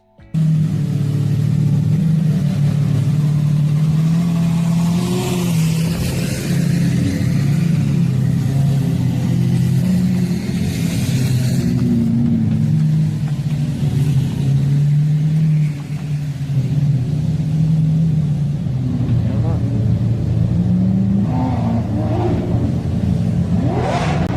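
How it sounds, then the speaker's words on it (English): Lamborghini cars passing in a parade, a loud continuous engine rumble with revving that swells and eases throughout, with no talk over it. "found a Lamborghini parade"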